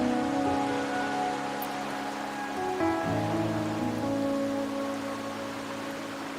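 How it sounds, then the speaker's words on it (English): Steady rain falls in the video game Wuthering Waves, a soft continuous patter under a sustained musical drone, with no talk. "Or are you simply passing the time until the rain ends?"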